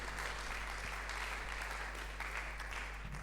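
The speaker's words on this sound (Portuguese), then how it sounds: "uma salva de palmas ao Senhor Jesus" A congregation claps steadily at a church teaching service, a dense continuous round of applause lasting the whole moment over a constant low hum.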